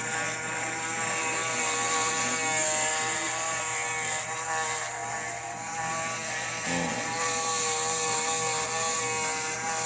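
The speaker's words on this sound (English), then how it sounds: "epic head shave time" Electric hair clippers shaving a head after seven months of growth, a steady close-up buzz humming continuously with slight shifts in pitch as the blades move.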